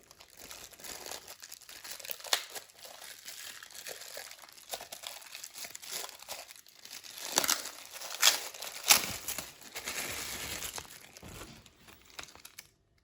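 A plastic bag holding attachment combs for a Cecotec PrecisionCare ProClipper Titanium hair clipper is handled up close, giving steady crinkling and rustling with louder crunches near the end.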